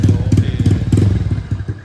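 A Yamaha Mio Smile scooter, upgraded to 130cc with a BRT camshaft, runs with a healthy, cool engine. It gives a steady, close, low throbbing idle with a fast, even pulse and light mechanical clatter, with no talk.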